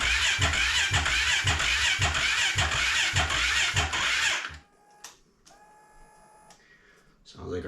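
A Kawasaki KFX450R ATV's electric starter cranks the engine on a low battery, a loud, sluggish, rhythmic churning for about four seconds that never catches, then cuts off into near silence with a few faint clicks and tones.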